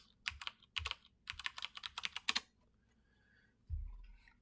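A quick burst of close keystrokes on a computer keyboard clatters for about two seconds, then stops, followed by a soft low thump near the end.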